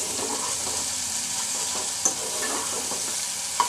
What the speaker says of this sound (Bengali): আমি এবার একটু নাড়াচাড়া করে দিব, তলায় যাতে লেগে না যায়,